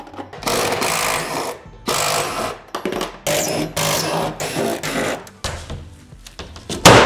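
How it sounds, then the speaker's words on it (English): An impact driver with a T30 bit backs the cargo ring bolts out of a Ford F-150 truck bed in loud, stuttering bursts of rattling hammering, separated by brief pauses, with no speech. "Now, I just have a T30 attachment here on my impact."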